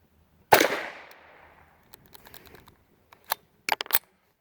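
A .22 LR Ruger rifle fires Norma Eco Speed ammunition once, a sharp close crack with a short decaying tail, followed by faint mechanical clicks and handling noises of the action.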